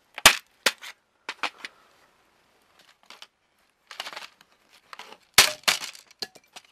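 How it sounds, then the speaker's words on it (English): Flathead screwdriver prying rivets out of an office phone's plastic housing, a series of sharp cracking pops and clicks in irregular bursts with scraping between them, close and loud against silence. "stick your flathead and twist and pop out all those rivets. There's not that much to it. It makes a lot of noise"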